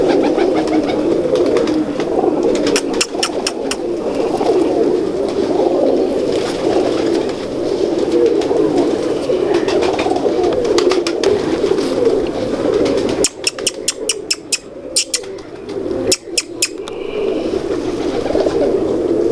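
A loft of breeder pigeons, including Salara Teddy birds, keeps up a dense, continuous murmur of cooing close by, with occasional wing flutters and clatter breaking through.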